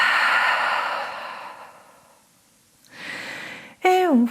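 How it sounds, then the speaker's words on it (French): A long, audible mouth exhale during a yoga session, close and fairly loud, fading out, followed by a softer breath and then a brief voiced sound at the end. "Ouvre la bouche, expire."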